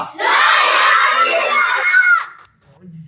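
A chorus of children shouts a slogan together in one loud, sustained burst of about two seconds, then falls quiet.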